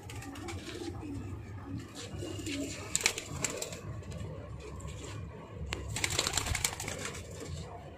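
Madrasi pigeons in a loft in Kolkata, soft low cooing repeated through the scene with some rustling and brief sharp noises, fairly close.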